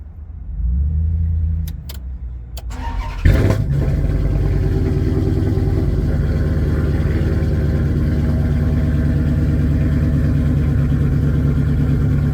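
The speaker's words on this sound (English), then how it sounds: "I'm going to start the vehicle" A Dodge Challenger or Charger, fitted with a fuel pump booster, cranks briefly and catches after a few seconds of quiet clicks. It then settles into a loud, steady idle rumble close by.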